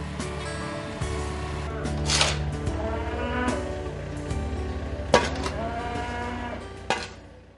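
Japanese cattle lowing and mooing several times in a shed, drawn-out calls near and loud, with clanking metallic sounds in between.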